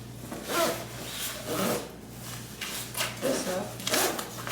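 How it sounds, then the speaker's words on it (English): A zipper is pulled shut on a lunch bag in several quick, scratchy bursts, fairly faint against a steady low hum, with no speech over it. "It's in the bag. Zip this up."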